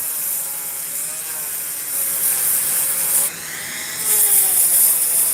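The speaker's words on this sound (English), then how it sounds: "And this sanding mandrel does a fucking great job at getting into the tighter areas" A power tool fitted with a sanding mandrel runs steadily while smoothing a surface, giving a continuous whirring buzz with a bright abrasive hiss that shifts in pitch as pressure changes.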